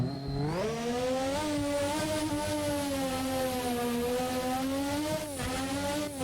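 A race car accelerates hard up the Goodwood hillclimb, its engine note loud and close, rising steadily through a sustained high-revving run with a brief dip before climbing again.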